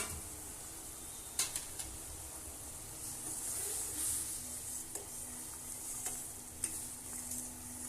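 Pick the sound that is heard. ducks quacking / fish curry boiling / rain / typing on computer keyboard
fish curry boiling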